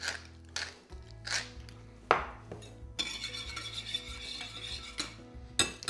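Eggs being whisked in a bowl while preparing chicken francese, with repeated scraping and clinking strokes of the whisk against the bowl, close and fairly loud, alone with no talk.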